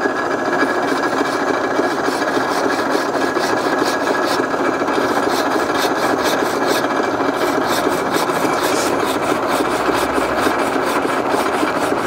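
A pruning saw rasps through a tree branch in steady, rapid back-and-forth strokes, close and continuous with no pauses or talking.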